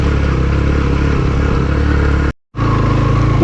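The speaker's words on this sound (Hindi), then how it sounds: "बहुत ज़्यादा स्टीप है ये, एकदम से चढ़ाई आती है टर्न के बाद ना, और पत्थर है नीचे छोटे बड़े, जिसे टायर स्लिप हो रहा है, और बाइक का मुसलसल जोर लग रहा है।" A motorcycle climbing a very steep mountain track of loose large and small stones in Hoper Valley, Gilgit Baltistan, its engine droning loudly and continuously under strain, then cutting out briefly before resuming.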